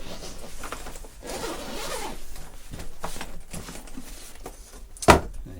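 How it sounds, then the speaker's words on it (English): Zips being pulled open on a new NiceCNC backpack: a series of close, rasping strokes of zipper teeth, ending with a sharp knock. "let's open up the zips and we'll have a wee look at the size"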